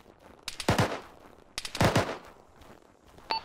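Bursts of gunfire from a tower in a ShackTac military video game session, two rapid volleys of several shots each at moderate distance, followed by a short pause and a single sharp crack near the end.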